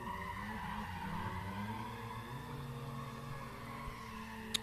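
Drift car tires squeal in a long, sustained skid during a drift competition run, blended with engine whine and fading slightly toward the end.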